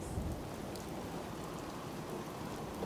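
Rain falling in the video game Fallout 4, a dense, even hiss of raindrops on surfaces with a low rumbling undertone, steady and continuous throughout.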